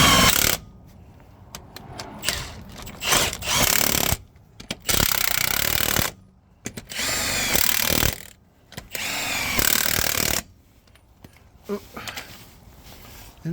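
Wheel nuts on a MAN horsebox being run up with a ratchet or power tool, loud repeated bursts of mechanical whirring and clatter separated by short pauses, close by, with someone talking in between.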